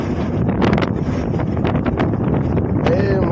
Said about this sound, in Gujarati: એ મસ્ત ઠંડી ઠંડી હવા આવે છે ભાઈ